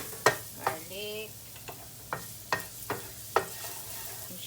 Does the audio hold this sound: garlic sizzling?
yes